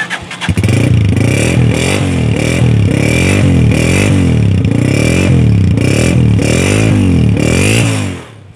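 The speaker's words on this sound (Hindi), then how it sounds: "साउंड भी आपने सुना, सेल्फ स्टार्ट ने भी किया फौरी काम।" A Crown 125 motorcycle fires up on its electric self-start, then revs in a loud, close, rhythmic series of rising and falling engine surges before cutting off at the end.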